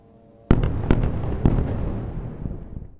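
Explosions from Israeli air strikes on the Gaza Strip at night: a sudden loud blast followed by two more sharp bangs within a second, with rumbling, crackling reverberation trailing off over the next couple of seconds.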